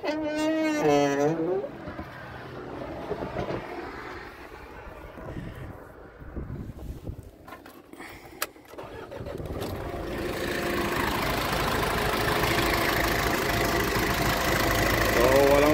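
An Isuzu 4HK1 diesel engine cranks and starts while cold, then settles into a steady, loud idle that builds and continues to the end, with a brief voice near the start.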